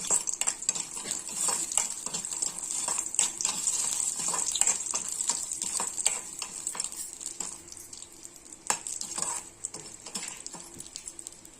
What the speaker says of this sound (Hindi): अब हम अदौरी बड़ी डाल देंगे। इसे भी हम भून लेंगे लाल के होते तक।